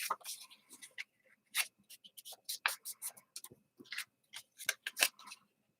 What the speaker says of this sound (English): We fold them in half. All four of them in half.